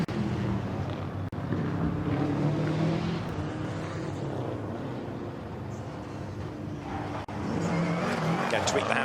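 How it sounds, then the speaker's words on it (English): A rally car accelerates around the Goodwood stage at SpeedWeek 2020, its engine note rising and falling close by through the chicane and onto the perimeter roads, with a brief cut in sound and commentary-like voice mixed in. "Flicks beautifully around the chicane, heads for the gap there onto the perimeter roads."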